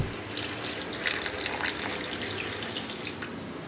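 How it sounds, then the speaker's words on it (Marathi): Water pours steadily from a tap or jug into a pot of red chicken curry being set to cook in a home kitchen, a continuous close splashing rush with no talk. "आता थोडंसं पाणी टाकून याला आपण शिजू देऊया"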